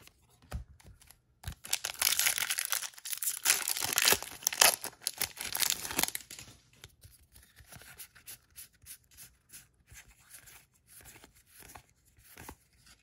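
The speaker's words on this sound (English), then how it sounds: "These packs open real easy." Magic: The Gathering booster pack wrappers are torn open and crinkled close up, with loud foil crackling and ripping for several seconds that then fades into quieter rustling and handling.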